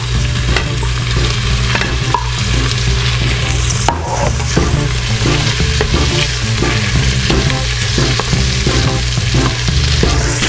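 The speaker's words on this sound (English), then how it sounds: "And now at this point we will put these sausages inside." Sausages and browned onions frying in an Instant Pot, a loud, close, steady sizzle with faint stirring scrapes throughout, with no talking.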